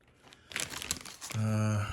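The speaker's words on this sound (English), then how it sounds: "It's kind of a thin plastic to absorb light, and you cut it out." A thin plastic light-absorbing sheet for a Millennium Falcon model build is handled at close range, giving brief soft crinkles before a steady hum takes over.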